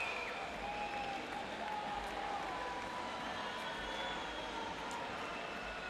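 A large crowd at the Rio 2016 Paralympic swimming events cheers and applauds after the men's 400 m freestyle S7 final. The roar is steady and distant-sounding, with no talk.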